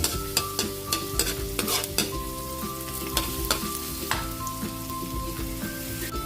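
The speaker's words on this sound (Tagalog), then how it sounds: "Sabay na natin yung ating garlic, bawang." Garlic fries in butter in a pan for sopas, giving a crackling sizzle under frequent sharp clacks and scrapes of a utensil against the pan.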